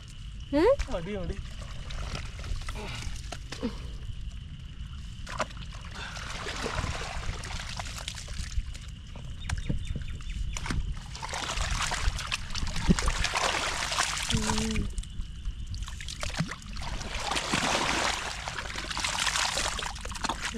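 Rainwater runs fully through a drainage channel beside a house after heavy rain. The flow sounds as a continuous rushing trickle underneath people talking for most of the stretch.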